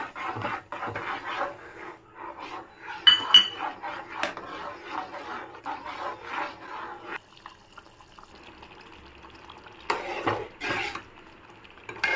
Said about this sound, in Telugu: ఇలా రవ్వ వేసినంతసేపు తిప్పుతూనే ఉండాలి.